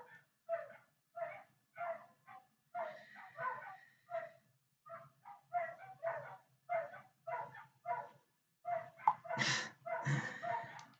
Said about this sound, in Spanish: Voy a tratar de desactivar los ladridos de los perros